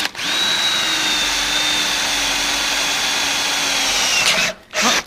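A power drill whines steadily as it bores through a plastic GoPro mount part, a loud and continuous tone held for about four seconds before it cuts off, followed by brief handling noise.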